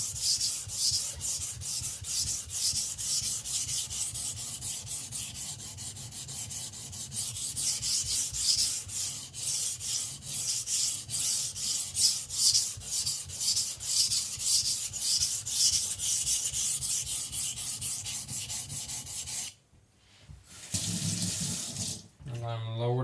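A Zwilling petty knife is sharpened on a wet whetstone, rhythmic rasping strokes scraping back and forth in a quick steady cadence, close and continuous, pausing briefly near the end before a few more passes.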